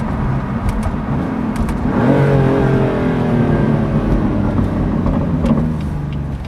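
Aftermarket exhaust on an orange 2018 BMW M4 revving on the road, a loud steady engine drone that swells and climbs in pitch around the middle and holds, with no talk over it.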